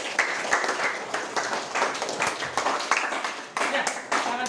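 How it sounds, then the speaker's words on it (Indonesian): A classroom group claps together, a dense, uneven patter of many hands for several seconds with a brief dip near the end, heard close and mixed with voices. "Oke, tepuk tangan buat."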